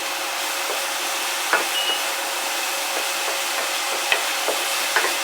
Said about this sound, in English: And I'm going to go ahead and stir this up